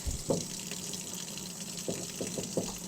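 Cloth being rinsed in water and wrung out while cleaning leather boots: a soft, steady trickle of running water with a few faint splashes and drips close by.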